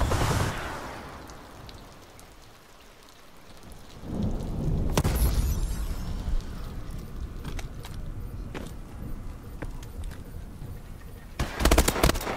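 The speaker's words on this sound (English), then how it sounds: "Friendly missile strikes incoming." Missile strike explosions in Call of Duty: Advanced Warfare: a rising rumble swells into heavy, rolling blasts, followed by scattered sharp impacts and a final cluster of loud explosions.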